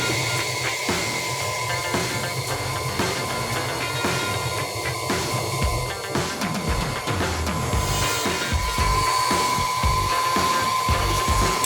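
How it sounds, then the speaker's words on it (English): Electric hand mixer beating vanilla cupcake batter in a bowl, a continuous loud whirring drone throughout with rattling and scraping textures and no speech. "Beating until smooth, stopping and scraping the sides of the bowl."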